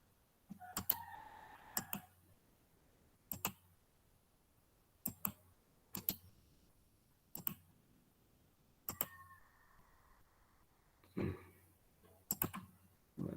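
Sharp, isolated computer mouse clicks sound at irregular intervals, some single and some in quick pairs, in a quiet room during spreadsheet or database work, with faint background hum and no talking.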